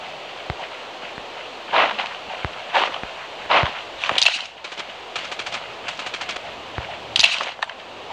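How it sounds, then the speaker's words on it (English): Gunfire in the mobile battle-royale game Rules of Survival comes in scattered bursts and single shots, sounding moderately distant, alongside faint footsteps and rustling. "Maybe there's gunshots, man."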